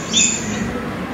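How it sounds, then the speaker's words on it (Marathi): A short-toed snake eagle gives a single brief, high whistling call, heard once near the start against a quiet, slightly hissy background. "Short toad snake eagle."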